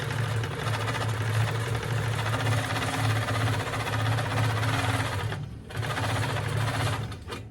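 A Handi Quilter longarm quilting machine stitches a tote bag strap with a fast, steady mechanical whir and rhythmic needle chatter, loud and close, with a short break before the stitching resumes.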